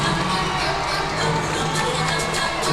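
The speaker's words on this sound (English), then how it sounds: "You can hear that crowd, but through my headset I can tell that it's loud." A loud arena crowd cheers and roars continuously at a college gymnastics meet between Arkansas and LSU, a dense wall of shouting and applause that fills the whole stretch.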